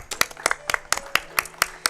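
Sparse, rhythmic clapping from a few people in the audience at a speedrun marathon event, roughly evenly spaced claps with no voices.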